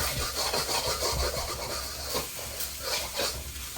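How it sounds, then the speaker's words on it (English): Gochujang pork is tossed and scraped around a hot pan, a steady close rasping scrape with soft sizzle continuing throughout. "I'm going to then toss, scraping the edges, everything here."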